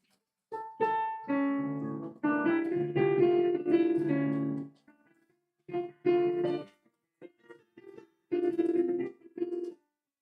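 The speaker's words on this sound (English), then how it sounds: "So my piano sounds like this." A piano plays a Nocturne through its own built-in speakers: clear sustained notes and chords in phrases separated by short silences, moderately quiet with no talking.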